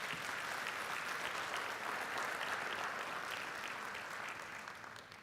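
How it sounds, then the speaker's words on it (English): At a Mandela University graduation ceremony, an audience applauds the choir with a dense, even wash of clapping heard from a distance at low volume, tapering off toward the end. "I think we should give them a round of applause."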